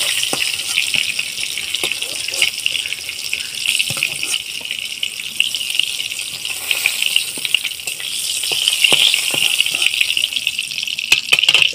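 Pieces of pointed gourd fried red in hot oil for a poppy-seed curry are lifted out of the pan, a steady close sizzle broken by sharp utensil clicks and clinks.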